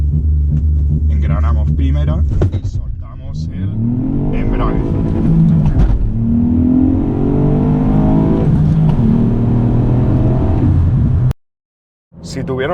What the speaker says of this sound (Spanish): probar el Launch Control del Ford Fiesta ST